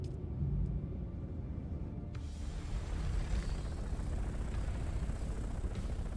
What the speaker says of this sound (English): it's flying me off in an assault copter